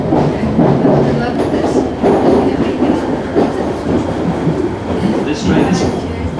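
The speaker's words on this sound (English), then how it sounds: "We're now departing Sandy Cove." A train pulls out of Sandycove station on an Irish railway, rumbling and clattering loudly and steadily from onboard, with a brief voice announcement heard over the rolling noise.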